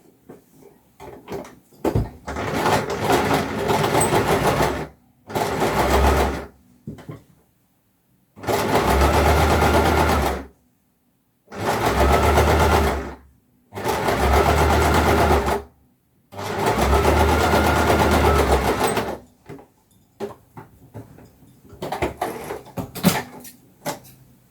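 A sewing machine stitches a pocket seam in a series of loud, close bursts of rapid whirring, separated by short pauses, with softer handling sounds between runs.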